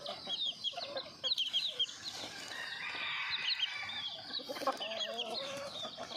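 Junglefowl chickens in a backyard coop cluck repeatedly at close range, with scattered higher calls and bird chatter layered over a steady farmyard background.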